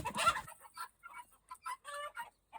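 A burst of loud clucking and squawking from roosters, followed by a series of short, scattered clucks and calls at close range.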